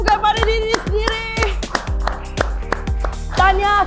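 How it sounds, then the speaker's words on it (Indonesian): A group of people clap their hands together after finishing a HIIT exercise workout, a burst of sharp, rapid claps close by that carries on steadily for several seconds. "semua berikan tepukan pada diri sendiri"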